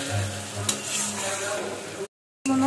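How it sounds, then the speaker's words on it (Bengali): Rajma masala being sautéed in a pan with salt and turmeric, with steady soft sizzling and stirring close by, broken by a short silent gap before the frying resumes. "এখন এতে পরিমাণ মতো লবণ আর হলুদ দিয়ে আমি জিনিসটাকে ভালো মতো কষিয়ে নিচ্ছি।"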